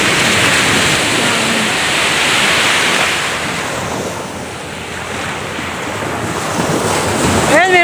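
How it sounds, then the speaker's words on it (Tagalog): Surf washes steadily onto the seaside shore at Tolosa, rolling swells rising and easing over a constant rush, with wind buffeting the microphone and no talk heard. "Napakasarap pakinggan ng tunog ng dagat."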